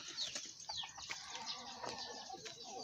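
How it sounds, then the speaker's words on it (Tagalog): Chickens cluck and flutter in a yard in Bicol, several birds making faint, scattered calls and wing rustles at a distance, quiet throughout. "Daming manok."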